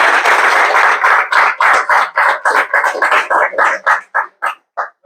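An audience applauds at the close of a university lecture on black hole perturbation theory; the clapping starts full and close, then thins into scattered, separate claps that fade out.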